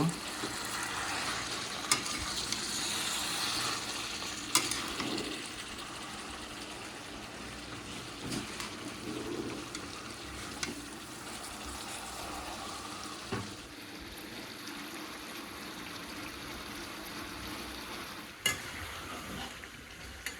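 Chicken pieces sauté in a pan for a potato chicken curry, a continuous low sizzle with occasional scraping and knocking of a stirring spoon against the pan.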